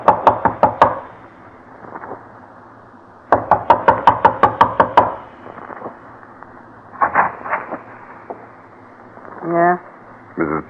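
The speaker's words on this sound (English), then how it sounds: "Knock. You better stand back." Knocking on a door in a vintage radio detective drama, two loud close bursts of rapid knuckle raps, each about six to eight blows, followed by voices speaking.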